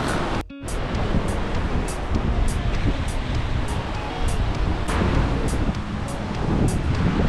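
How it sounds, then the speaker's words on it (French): Cold wind blowing at the seaside in Hoi An, Vietnam, a loud steady roar of wind buffeting the microphone over breaking surf, continuous throughout with faint periodic rustles. "il fait froid, il y a du vent"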